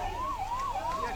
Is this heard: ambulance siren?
yes